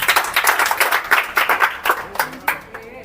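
An audience claps at an Independence Day celebration and prize-giving ceremony: a close, steady round of crisp, rhythmic handclaps that thins toward the end.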